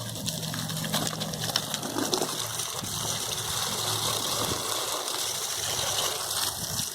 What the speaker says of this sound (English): You can hear how much water is going in.